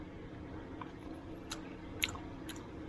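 Raw hanchi (a prized Korean squid), just caught while fishing and eaten on the spot, chewed close up: a few faint, squishy bites and soft crunches scattered over a quiet background hiss, with no talking.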